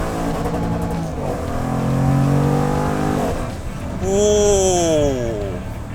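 A Jaguar F-Pace SVR performance SUV engine with an eight-speed ZF automatic revs loudly up close, the pitch climbing in two strong surges of acceleration with a brief easing between them.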